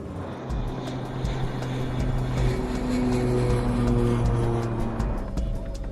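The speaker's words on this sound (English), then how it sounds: "The turboprop should be on the runway in less than 15 minutes." A turboprop airliner on final approach, heard as a steady, loud engine and propeller drone with a layered tonal hum that holds evenly for the whole stretch, without voices.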